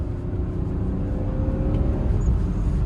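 A 1993 BMW E36 325i automatic under full throttle, its engine a steady, loud low drone with rising harmonics, heard from inside the car over road noise without speech.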